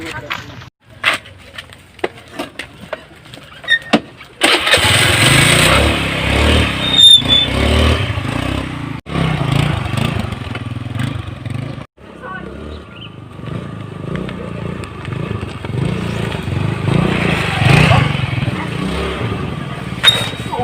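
A motorcycle engine starts up and keeps running close by for a long stretch, a loud steady rumble with revving swells, while people talk over it now and then.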